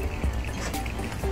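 Shower water drips and trickles as someone washes after exercise, a short wet splashing close by with no talking.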